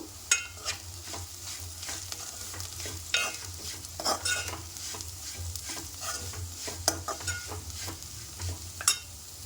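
Ivy gourd frying in a pan with turmeric, a steady low sizzle broken by scattered scraping and stirring clicks from a spoon against the pan, close and moderately loud, with no voices.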